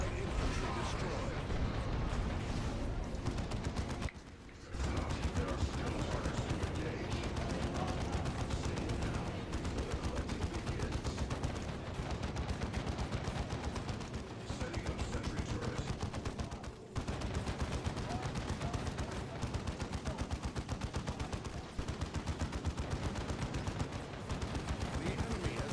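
Dense, continuous gunfire from turrets in the Space Marines video game, a relentless rapid rattle of shots with brief dips, loud and close throughout, mixed with game voices and battle noise.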